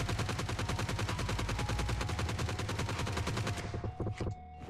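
A G36C rifle fitted with a half grip fires in PUBG Mobile, a loud, rapid, unbroken automatic stream of shots lasting about four seconds before cutting off abruptly.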